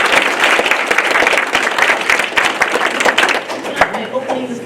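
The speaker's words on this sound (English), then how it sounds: "Please give them a round of applause" An audience at the Bourne High School Innovation Pathways open house applauds its panelists with a dense, steady burst of many hands clapping that stays loud throughout, then thins slightly near the end.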